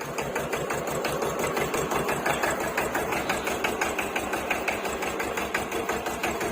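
A Hinomoto E18 tractor engine runs steadily nearby with a fast, even knocking chug that stays constant throughout.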